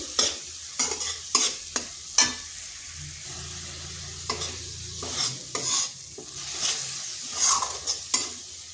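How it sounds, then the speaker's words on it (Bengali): A spatula stirs and sautés a spice paste with green chilies in a pan for a vegetarian pointed gourd dish. Irregular taps and scrapes sound over a soft, steady sizzle, fairly quiet and close. "মশলাটা ভালো করে কষে নিচ্ছি।"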